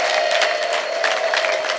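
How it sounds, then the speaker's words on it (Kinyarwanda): A church congregation applauding and cheering, a dense steady wash of clapping and voices filling the whole stretch at close, even loudness. "yikomera amashyi uyivugiriza impundu mu izina rya Yesu"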